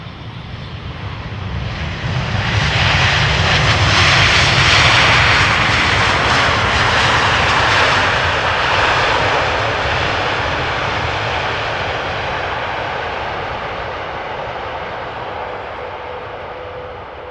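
A brand-new Boeing 787 Dreamliner passes close at Amsterdam Schiphol, its jet engines building to a loud, broad roar that peaks early and slowly fades, heard alone.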